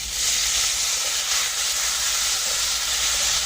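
Water splashes into a pan of frying spice paste of ginger, cumin, turmeric and chili powder, raising a loud, continuous steam hiss and sizzle that holds level throughout.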